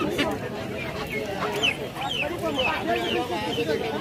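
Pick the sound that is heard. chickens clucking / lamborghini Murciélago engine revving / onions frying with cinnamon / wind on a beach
chickens clucking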